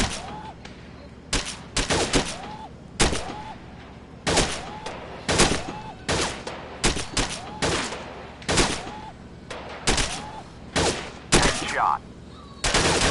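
WW2 weapons fired in a VR shooting game, a loud regular volley of sharp single shots about twice a second, each ending in a metallic ring, with short game voice lines between them.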